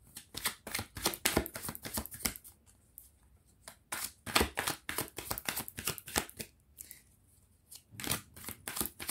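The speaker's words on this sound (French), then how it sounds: "je vais prendre mon tarot" Tarot cards shuffled by hand, crisp riffling bursts in quick irregular runs with short pauses between, close and fairly quiet.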